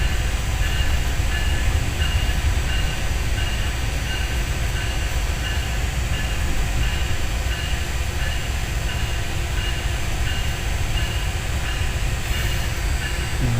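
The Jafaar Express of Pakistan Railways rolls out of a small station with a continuous loud rumble and rattle of wheels and carriages, steady throughout with no voices.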